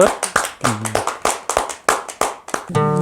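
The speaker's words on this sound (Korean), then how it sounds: "감사의 박수 드립시다" Hands clapping in a church congregation at the close of a Sunday sermon, a string of sharp, loud individual claps in quick irregular succession, ending as music begins.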